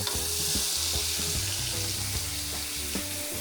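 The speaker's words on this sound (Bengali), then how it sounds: "আমরা এতে আগে ব্লেন্ড করে নেয়া টমেটো পিউরেটুকু তেলে দিয়ে দেব" Blended tomato puree hits hot oil with spices in a pan, a loud, steady close sizzle and crackle with a few low clanks of stirring underneath, no voices.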